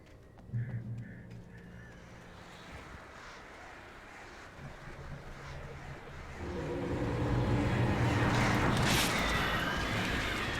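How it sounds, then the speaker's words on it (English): Birds in the Alan Wake video game cry out in a few honking, cawing calls early on, then a loud rushing wash of flapping and squawking swells up and fills the rest, close and without talk. "I heard the birds"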